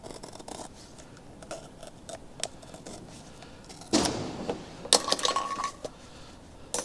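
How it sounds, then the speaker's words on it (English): A brand-new blade slicing through the other end of an intercooler hose or pipe on a VW Golf Mk2 GTI 1.8T 20V, heard as a few close, sharp snipping and scraping cuts with small clinks, with no talking. "So I think now I'm gonna cut the other end off."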